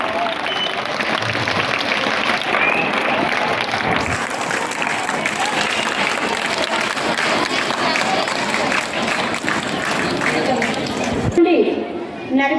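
Audience applause at a college event, a dense, steady clapping that fills the room for about eleven seconds before cutting off abruptly, with a brief murmur of voices after.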